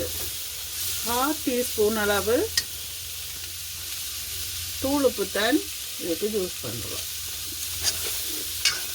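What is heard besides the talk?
stirring and frying dried anchovy in a pan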